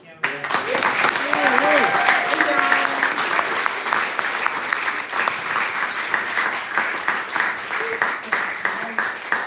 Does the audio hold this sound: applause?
yes